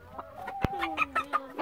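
A chicken in a low backyard coop gives a series of short, close clucks in an uneven rhythm, with one sharp squawk near the middle.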